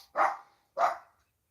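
A dog barks twice, sharp and fairly close, with a short gap between the two barks and quiet around them.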